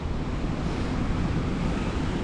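Sea water swirls and washes between coastal rocks, a steady broadband rush of surf mixed with wind noise, constant and fairly loud with no voices.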